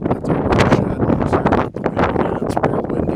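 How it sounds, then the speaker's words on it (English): Strong wind gusts buffet the microphone outdoors on an open farm in a valley, a loud, close, roaring rumble that surges and dips irregularly throughout. "It's real windy out here."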